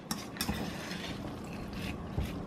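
Shredded hash brown potatoes and cheddar cheese being tossed and stirred in a bowl, soft scraping and rustling with a few light clinks of utensil on the bowl, close-up and continuous with no talking.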